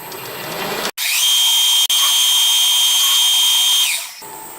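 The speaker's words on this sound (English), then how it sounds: "So I'm just going to centre drill everything first." A centre drill spins up and bores into metal on a milling machine set by manual data input, part of building a Stuart Turner No. 8 mill engine; one steady, close high whine holds for about three seconds, then winds down.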